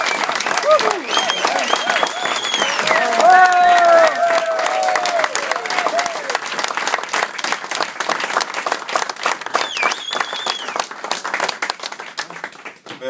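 Warm audience applause for a singer at Kafé 44, dense clapping mixed with cheers and whoops throughout, a sung or whistled melodic line rising above the crowd before the clapping thins slightly toward the end.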